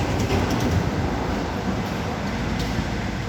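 A new 50-horsepower TT2.50 tractor engine runs steadily at idle, a dense, continuous low rumble with constant loudness throughout and no talking.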